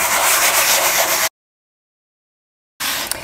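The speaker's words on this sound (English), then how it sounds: "I'm just gonna lightly sand it" Close, steady rubbing of a fine sanding block over a melamine or laminate cabinet surface, a soft gritty hiss that stops, goes silent, then resumes briefly.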